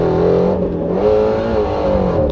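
A Whipple-supercharged Shelby GT350 pulls hard in second gear, its engine roaring loud and close from the cabin with a rising, strained tone and slight wavering as revs climb.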